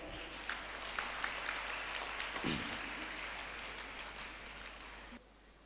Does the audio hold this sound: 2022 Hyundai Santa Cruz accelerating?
no